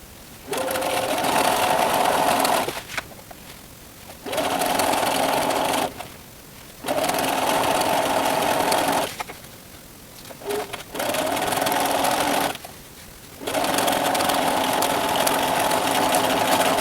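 A sewing machine stitches a roll kit in five steady bursts of rapid, even whirring, each a few seconds long, with short quiet pauses between runs as the fabric is repositioned and back-stitched.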